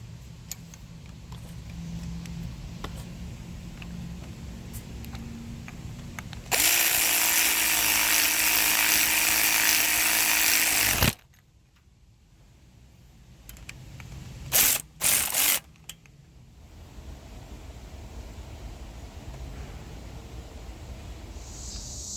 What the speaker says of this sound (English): So just tighten them down finger tight and then torque them to the right specs